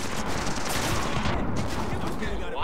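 Rapid, dense gunfire in Splinter Cell Blacklist co-op play, a continuous crackling fusillade of shots, fairly close and steady throughout, with voices briefly talking over it.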